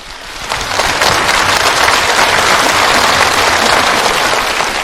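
An audience at a televised stage performance for International Women's Day breaks into loud, sustained applause that swells within the first second and holds as a dense wash of clapping.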